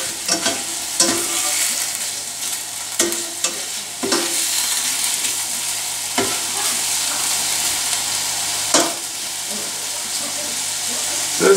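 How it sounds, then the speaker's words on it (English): Barbacoa meat browning in a pan, a continuous sizzle broken by repeated scraping stirs every second or two, close and fairly loud. "just keep on stirring that around so it browns"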